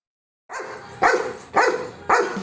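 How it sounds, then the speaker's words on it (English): A dog barks four times in a steady rhythm, each bark loud and close with a sharp onset, alone with no other sounds. "That is right, it is dog."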